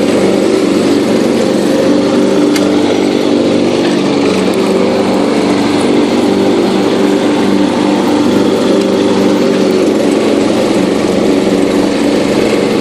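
A John Deere 210 riding lawn mower cuts grass with its deck engaged, its engine holding a loud, steady, close drone throughout without bogging down; no voices are heard.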